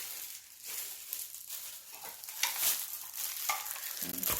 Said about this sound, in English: now we're gonna mix it all together